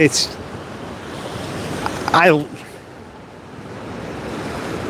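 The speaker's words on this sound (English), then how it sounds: "The water is moving. It is moving today." The Tennessee River rushes in flood just south of Knoxville near Fort Loudoun Dam, a loud, broad roar of moving water buffeted by wind noise, with a brief voice-like burst midway and no clear talk.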